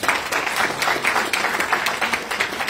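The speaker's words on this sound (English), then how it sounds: "Give yourselves a round of applause" A seminar audience applauds itself with lively, continuous clapping in a room, full and fairly loud with a few sharper individual claps standing out, with no speech.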